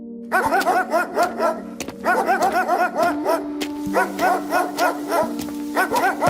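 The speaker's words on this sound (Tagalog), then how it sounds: "Nagising na lang ako nang makarinig ng mga tahol ng aso." A dog barks outside a house in a steady run of rhythmic barks and yips. Sustained musical tones play underneath.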